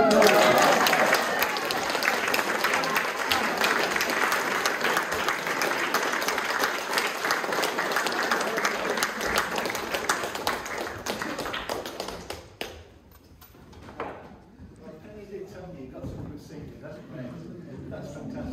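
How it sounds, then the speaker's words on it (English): An audience applauds heavily after a sung medieval round, loud dense clapping that lasts about twelve seconds before cutting off, followed by quieter sounds and talking. "Huge round of applause."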